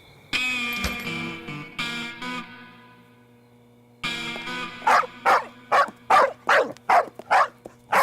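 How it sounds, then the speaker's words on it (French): A dog barks in a fictional scene. A few loud, distorted barks come first, then a pause, and then a quick series of about eight sharp, evenly spaced barks close by. "Faites taire votre chien. Il va nous faire repérer."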